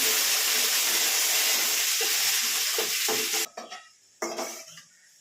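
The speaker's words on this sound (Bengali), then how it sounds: "কাজু কিশমিশটা আমি ঘিয়ের মধ্যেই ভাজবো।" Cashews and raisins fry in hot ghee in a pan, a loud, steady sizzle with stirring that cuts off partway and returns in short scraping bursts.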